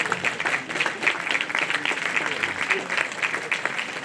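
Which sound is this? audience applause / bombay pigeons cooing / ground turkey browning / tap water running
audience applause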